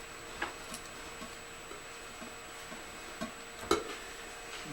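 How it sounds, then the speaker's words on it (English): Steady metronome click track playing back in Pro Tools, faint, even ticks at a regular pulse over a low constant hum, with one slightly louder click near the end. "That's the click track."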